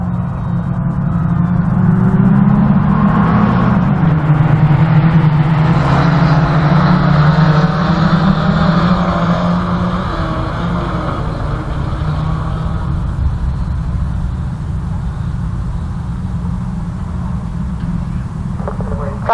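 Autograss race cars tear around a dirt track at St Neots in a finals race, engines roaring loudly as they pass close, then settling into a steadier, more distant drone.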